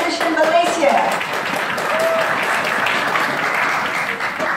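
An audience applauds Nestle Nutrition Malaysia at its new product launch: dense, sustained clapping from a crowd that holds steady across the whole clip, loud and close, with no talking over it.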